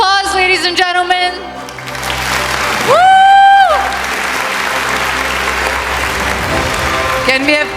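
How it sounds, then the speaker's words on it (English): Applause from an award ceremony audience at a 2025 NJ NY event fills the room, with a tonal whoop or cheer rising briefly through the middle and voices talking beneath the steady clapping. "A big round of applause, ladies and gentlemen."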